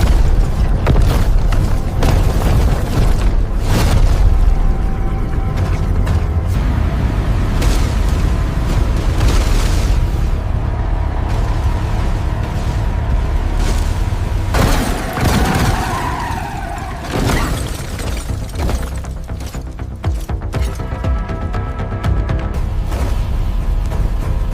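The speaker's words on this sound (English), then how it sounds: "The North Korean agent fires, but Bond evades the blast" Booming blasts and bursts of gunfire in a Bond film hovercraft chase across a flat, barren landscape, with a North Korean agent firing and big fans roaring; loud, dense and continuous, with heavy low rumble and repeated explosive hits.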